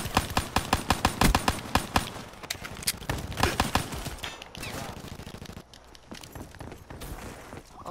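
Rapid rhythmic shots from the Gorgon gun in a first-person shooter, a fast steady volley of loud, close cracks that thins out into scattered quieter firing and background noise.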